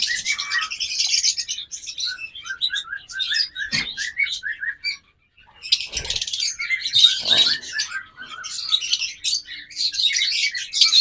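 A pair of pet birds offered for sale calls steadily up close with bright chirps, tweets and squawks, broken by a few short gaps and soft knocks.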